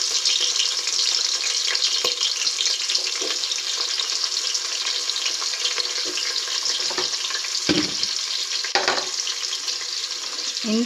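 Onions with shahi jeera, cinnamon and cloves fry in hot oil, a dense, steady hiss and crackle close up, with a few brief stirring clanks near the end.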